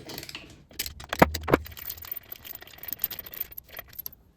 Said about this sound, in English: First thing you got to do is remove these 2 bolts.